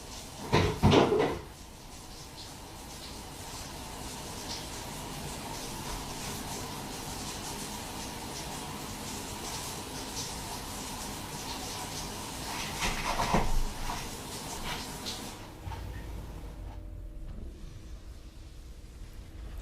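A door opens and closes twice, with a thud and rattle near the start and another around the middle, over a quiet hum of room noise.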